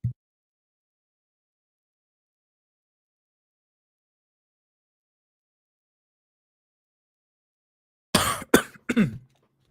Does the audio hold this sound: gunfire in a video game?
no